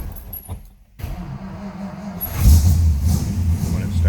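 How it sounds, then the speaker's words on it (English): A key turns in a 1955 Ford Customline, then the starter cranks and the engine catches and settles into a loud, close, low rumbling idle. "Let's go ahead and fire this car up so you can hear it run."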